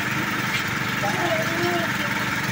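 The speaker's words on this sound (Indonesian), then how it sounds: "ini bisa kita lihat mesin bornya lah, tuh si kuning mesin bor canggih" A yellow well-drilling rig's engine runs at a steady idle-like drone while boring a water well about 40 meters deep in muddy ground, with talk over the constant mechanical hum.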